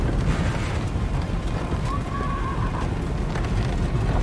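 A horse neighs in the video game Total War: Three Kingdoms, a short whinny rising over loud, rumbling wind-like battle noise that continues throughout.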